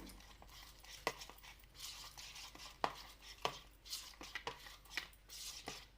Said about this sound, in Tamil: கட்டி இல்லாமல் நல்லா கலந்து விட்டுக்கோங்க